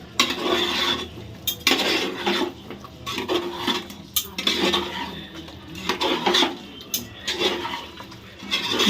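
A spoon scrapes and stirs chicken biryani in a cooking pot with uneven, rhythmic clattering and scraping strokes. The sound is close and moderately loud.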